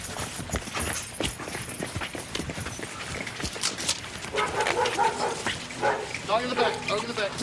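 During a police approach to a house in El Paso, Texas, a dog barks in short repeated bursts amid shouting voices and footsteps, near and fairly loud.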